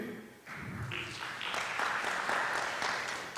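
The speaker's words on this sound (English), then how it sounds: "give a round of applause for all of us today" Applause from a higher-education digital transformation symposium audience at the close of a session, rising after a brief lull into a full, sustained clatter of many hands at moderate volume.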